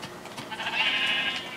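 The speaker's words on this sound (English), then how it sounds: "come here, sheep" A sheep in the Minecraft video game gives a single drawn-out bleat, fairly close and clear over a faint steady game background, with no talking.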